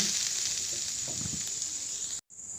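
Grated coconut fries with sugar in a hot wok, a close, even sizzle with light stirring scrapes, cutting out briefly near the end before resuming.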